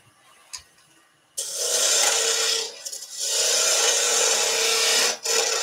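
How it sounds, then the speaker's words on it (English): Spindle roughing gouge cutting a spinning wood blank on a lathe while rounding a top edge, a loud continuous rasping scrape up close that runs in two long passes with a short dip between. "I'm going to go through a spindle roughing gouge"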